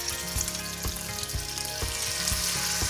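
A small piece of food dropped into hot oil in a pan sizzles loudly and steadily up close, with scattered crackles and pops through a constant frying hiss.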